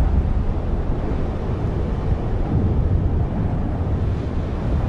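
Wind blowing across the island of Sulawesi, Indonesia, a continuous broad roar with buffeting gusts hitting the microphone, steady and fairly loud throughout, with no voices.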